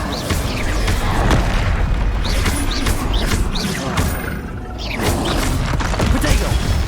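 An Incendio fire spell cast in combat in Hogwarts Legacy on PS5, heard as repeated booming bursts and whooshing impacts in a busy, continuous battle soundscape.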